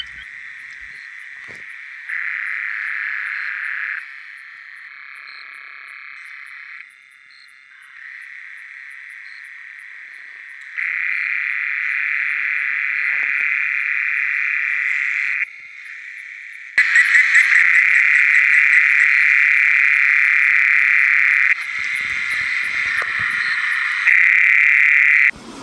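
Frogs call across a flooded wetland in Kruger, a continuous high trilling chorus that shifts and swells in layers. The chorus grows louder and denser toward the end, with no voices.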